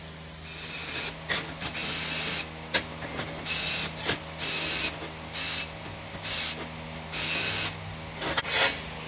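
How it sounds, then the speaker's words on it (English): Deburring metal rear differential parts by hand, repeated harsh rasping strokes in bursts of about a second each, close and fairly loud over a low workshop hum. "We're gonna go deburr these and then cut it out."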